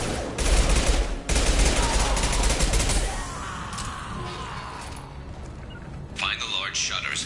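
Sustained automatic gunfire from a Mass Effect 2 firefight, loud and dense for about three seconds, then easing into softer scattered shots and combat noise, with squad voices calling out over the battle.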